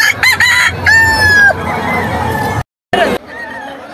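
Roosters crow repeatedly at a cockfight amid a noisy crowd of chattering people, with a brief dropout partway through.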